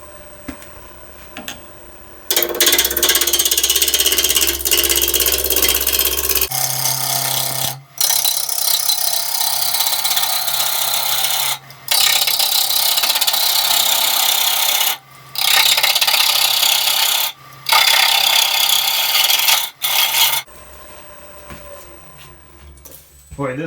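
A swept-back gouge roughs a hard, dry walnut bowl blank on a wood lathe, producing loud, raspy scraping cuts in several bursts broken by short pauses, over a low motor hum, with occasional talk in the gaps.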